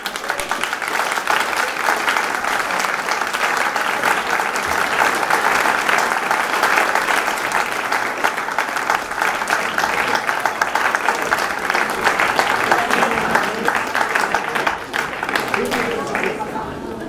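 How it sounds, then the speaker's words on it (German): Theater audience at an amateur stage comedy applauds steadily, a dense and prolonged wash of clapping with voices audible underneath. "Applaus, Applaus!"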